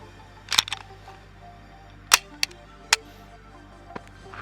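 Sharp metallic clicks from the slide release of an Arex Zero 1 pistol, a few separate snaps spaced over several seconds, close and fairly loud against a quiet background.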